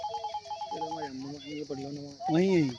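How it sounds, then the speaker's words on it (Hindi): A mobile phone rings with an incoming call in a village near a mosque, playing a repeating melodic ringtone that grows louder toward the end, while a voice speaks briefly over it. "कारी साहब का फ़ोन आ रहा है नमाज के लिए"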